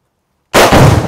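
A rifle shot strikes an exploding target, setting off one sudden, very loud blast that cuts through silence and rumbles on briefly afterward.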